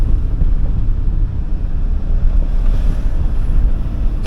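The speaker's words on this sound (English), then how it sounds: "The road noise. That's the noise." Steady low rumble of road noise inside a van while driving, a dense broadband roar concentrated in the low end, continuous and fairly loud with no talking.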